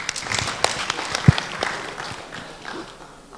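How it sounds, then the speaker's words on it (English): An audience at an examination results release ceremony applauds, a scattered burst of claps with one sharp louder clap, fairly close and gradually thinning out. "You can clap."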